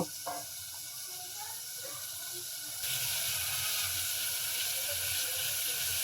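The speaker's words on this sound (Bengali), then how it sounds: "পানিটা ফুটে আসছে" Salted water comes to a boil in a pan, a soft steady hiss of steam that grows louder and fuller partway through.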